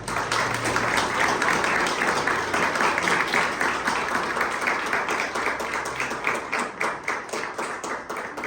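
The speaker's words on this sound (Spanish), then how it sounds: "Póngale un fuerte aplauso al Señor." A church congregation gives the Lord a strong round of applause: dense, sustained clapping from many hands, steady and loud, thinning into more distinct individual claps toward the end.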